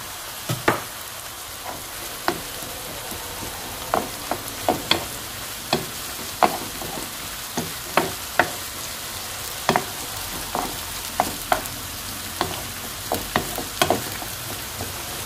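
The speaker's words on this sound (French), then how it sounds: "Je laisse revenir 2-3 minutes. Je rajoute les champignons." Mushrooms sautéing in a pan for a stuffed batbout filling, a steady close sizzle broken by frequent sharp clicks and pops of stirring throughout.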